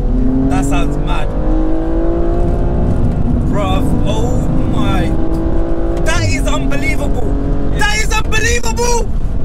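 A BMW M235i accelerates hard with a loud, rising engine roar heard from inside the car, with short gaps where the pitch drops between gears and excited voices over the top.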